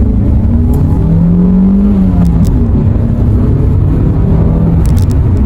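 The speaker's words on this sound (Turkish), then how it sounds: "Motor sesi illaki geliyordur kamera." A Fiat Egea 1.4 Fire engine revs loudly and steadily during a road-holding test drive, with a rising and falling engine tone running throughout and a few brief high squeaks of tires.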